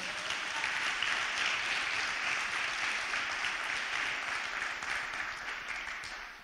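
Congregation applauding in church, a dense sustained wave of clapping from many hands, moderately distant and even throughout, fading slightly at the end, with no speech over it.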